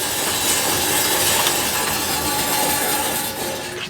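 A lapidary slab saw cuts through moss agate rough from St. Helens, a steady loud abrasive grinding hiss that holds constant for several seconds before easing slightly at the end.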